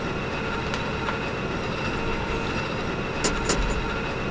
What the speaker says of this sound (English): A very loud elevator ride.